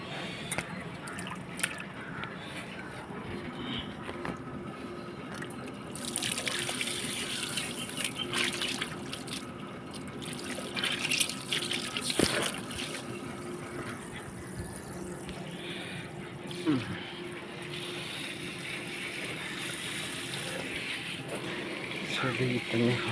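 Tap water gushes onto potted plants in a rooftop terrace garden, a continuous splashing flow that surges and eases over twenty seconds while a person talks at times.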